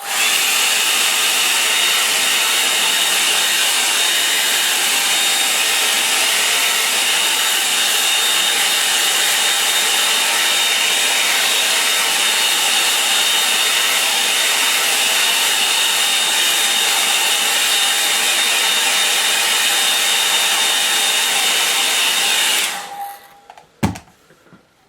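Hair dryer blowing steadily on a watercolour painting on Fabriano paper, a loud constant whoosh with a whine running for over twenty seconds before it switches off with a clunk.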